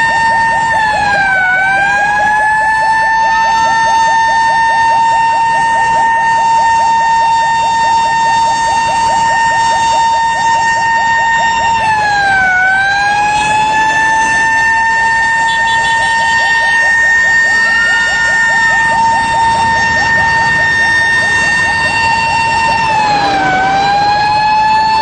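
An ambulance siren wails steadily and loudly on a busy road near the National Hospital during a protest, its long rising and falling cycles repeating close by with traffic noise underneath.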